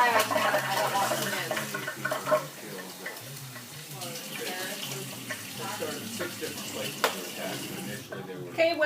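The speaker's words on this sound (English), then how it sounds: "I'm going to pour it right into this hot pan with the onions in it" Cold water, about two cups, poured into a hot pan of onions, giving a steady rushing, bubbling sizzle that runs throughout at moderate loudness, with a brief louder burst near the end.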